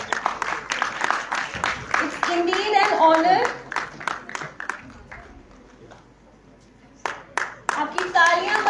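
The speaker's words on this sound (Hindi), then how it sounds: "I give a big round of applause." Clapping from an audience at a science conclave breaks out in loud bursts, fades to near quiet midway, then returns strongly; someone speaks briefly over the hands.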